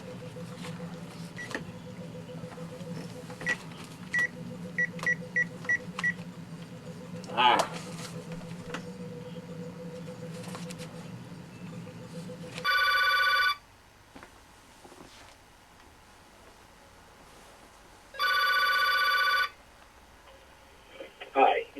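A telephone is dialed with a string of short beeps, then rings twice in long loud electronic bursts separated by quiet, with a steady hum under the dialing.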